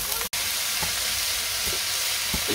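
Curry sautéing in a pan with salt and a pinch of turmeric, a steady broadband sizzle running throughout, close and fairly loud, broken once by a brief drop to silence and a few soft scraping stirs.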